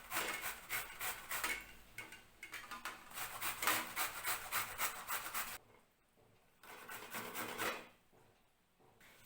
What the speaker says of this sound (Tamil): கிரேட்டர் வச்சு இந்த மாதிரி துருவிக்கணும்.